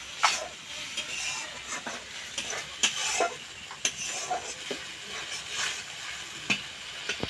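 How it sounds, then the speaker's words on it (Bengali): Masala for a prawn malai curry fries in a pan after a splash of water is added, making a continuous crackling sizzle punctuated by sharp spoon taps and scrapes against the pan, fairly close and without speech. "এখন অল্প করে একটু জল দিয়ে দিচ্ছি। ভালো করে মশলাটা কষিয়ে নেব।"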